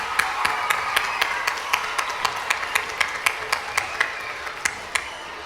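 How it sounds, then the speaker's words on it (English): An audience at a children's music education concert claps in a steady, evenly spaced rhythm: sharp, distinct claps at moderate volume that continue for several seconds. "Everybody, give yourselves a round of applause for everything you learned today."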